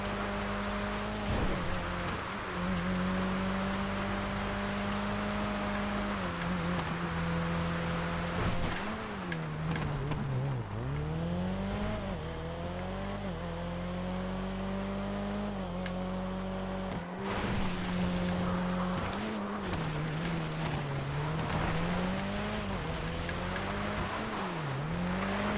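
Rally car engine in GTA driving off-road, a loud continuous drone that rises and falls as it revs, with gear-change dips and tire noise throughout, no talk.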